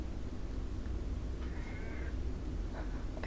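A house cat meows once, a drawn-out mid-pitched cry heard close by but fairly soft over a steady low room hum, with a faint shorter sound near the end.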